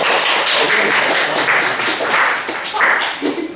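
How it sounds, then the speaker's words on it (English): Scattered clapping from a student comedy gig audience, a steady patter of hands in a small room that swells and fades, with some voices underneath. "Clap if you think Will was most important."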